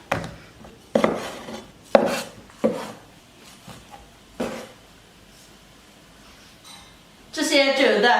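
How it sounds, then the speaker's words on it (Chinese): A knife cutting through homemade pork sausage on a board, several sharp separate chopping knocks spaced about a second apart, close, with a voice talking at the end. "把肉肠往开切一下"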